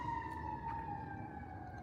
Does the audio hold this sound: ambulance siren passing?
yes